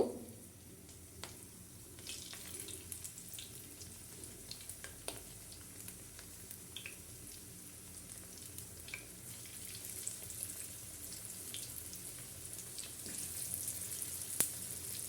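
Onion fritters (piaju) frying in hot oil, producing a faint, even hiss with small scattered crackles and pops that grow slightly busier toward the end, with no one talking.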